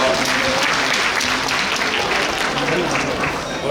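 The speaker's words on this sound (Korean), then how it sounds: "다시 한번 지금까지 수고해주신 노광규 시장님과 손은설 진행자님께 뜨거운 박수로 부탁드리겠습니다." A crowd at a book concert in Suncheon, Korea gives warm applause to the mayor and the host, sustained dense clapping with some voices mixed underneath.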